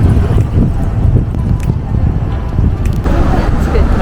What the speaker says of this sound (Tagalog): Ang hangin kasi eh, ang hangin sa gabi.